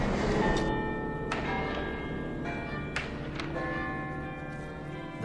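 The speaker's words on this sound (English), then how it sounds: "the bell would ring from the top of the UT tower" A large bell rings from atop the UT tower at the University of Texas, several strong strikes spaced about a second apart, each with a long ringing overtone decay that overlaps the next, sounding fairly close and full.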